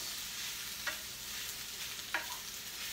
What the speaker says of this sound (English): still sauteing this up